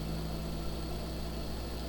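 Steady mechanical hum of an air compressor pressurizing a soil water apparatus with a porous capsule during a leak test, a constant droning tone with no pauses and no talk.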